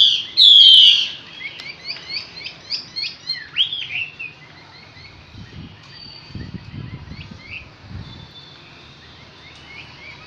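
A Chinese hwamei songbird sings in a run of bright, quick chirps and warbled phrases, loudest near the start and then continuing more softly as low rustling and tapping sounds rise beneath it.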